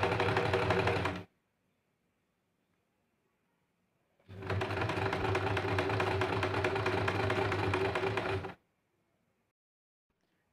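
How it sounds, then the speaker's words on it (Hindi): A sewing machine stitches the back of a blouse onto its sleeves in two loud, steady runs: a short one at the start and a longer one after a silent pause, each stopping abruptly. "वो अब हम सिलाई करते हैं स्लीव्स के साथ"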